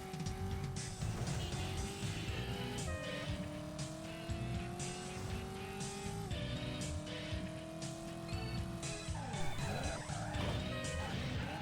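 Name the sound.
car driving and crashing in the video game Driver: San Francisco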